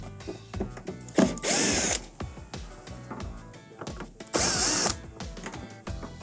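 A power drill backs two Phillips screws out of the metal side panel of a Samsung dishwasher, with two loud whirring bursts among clicks, ratcheting and handling clatter up close.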